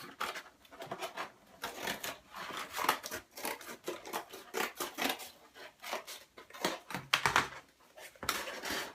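Scissors snip through cardboard to cut out a cone shape for a pine cone decoration, a close, steady run of short crisp crunching cuts with brief pauses, no talking.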